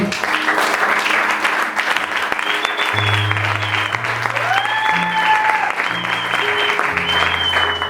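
A church congregation applauds and cheers in praise of God during a morning service, with steady dense clapping throughout, while sustained low tones from an organ or keyboard play underneath.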